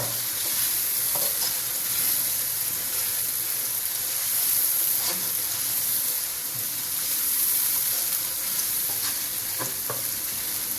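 Chickpea pulao masala frying in a pot over raised heat, a steady bright sizzle with scraping stirs of a spoon at irregular moments, close and continuous with no talk.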